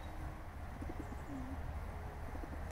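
Pigeons give a few soft, brief coos, faint and partly buried in a steady outdoor background hum.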